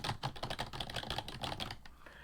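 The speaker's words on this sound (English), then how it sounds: "You hear it like typing." Rapid clatter of keys typed on a computer keyboard, the keystrokes close and steady for about two seconds before tapering off, with no voices.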